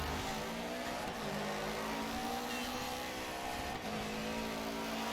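Rally car engine in the racing game Dirt 3 drones and revs steadily at high pitch, loud and continuous, with brief shifts in tone.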